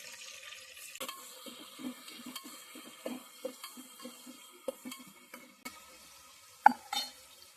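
Tomatoes go into a tempering of oil, mustard seeds, cumin and curry leaves for a Maharashtrian Bhogi vegetable dish, with faint sizzling under repeated soft scraping and stirring strokes and a few sharper clinks of a spoon against the pan.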